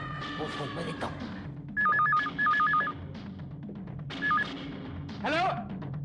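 A telephone rings in several short, repeating electronic bursts, fairly close and clear, with background voices and room noise underneath.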